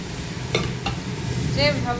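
Matar dal with panch phoron tempering sizzles in a pan, a soft steady fry marked by a couple of sharp spoon taps and a faint scraping stir near the end.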